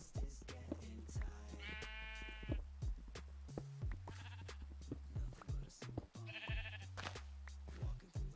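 Sheep in the Minecraft video game bleating, two wavering bleats separated by a few seconds, over a rhythmic background of game music or tones, fairly near.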